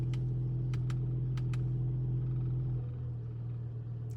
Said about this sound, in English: flip it into comfort mode, they close up and you can hear the difference